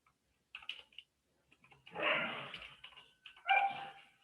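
Small household dogs barking and yelping in short bursts, with a louder scuffling flurry in the middle and another near the end, heard from a moderate distance in an otherwise quiet room.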